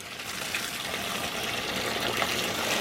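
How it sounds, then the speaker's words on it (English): Water pours and splashes steadily into house plant pots during watering, a continuous close gushing stream with slight surges and no voices. "It is literally so peaceful and relaxing for me to water these plants"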